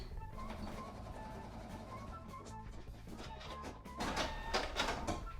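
Sewing machine stitching a seam in paper-pieced quilt sections at short stitch length and low speed, a close mechanical rattling hum that speeds up and gets louder near the end.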